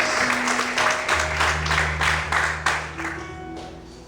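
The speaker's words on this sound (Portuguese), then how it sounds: "Mais forte as palmas do Senhor" A congregation claps during a church service, dense steady applause with a rhythmic pulse, while sustained organ or keyboard tones ring underneath and the clapping thins out at the close.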